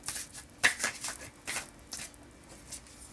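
A deck of oracle cards is shuffled in close, quick papery riffles and flutters, several bursts over a few seconds, fairly faint, with no talk.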